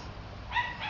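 A neighbour's dog barks from next door, two short, faint yips heard at a distance over quiet background noise.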